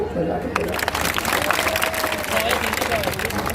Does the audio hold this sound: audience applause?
yes